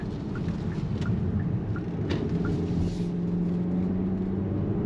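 Engine of a 2025 Kia Soul running under load with a steady low rumble inside the cabin, a smooth pitch change as it steps down through its simulated gears, close and continuous without talk.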